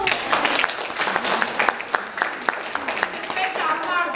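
Applause from an audience at a Christmas event, hands clapping in a steady dense patter for the whole stretch with some voices and children's chatter mixed in underneath.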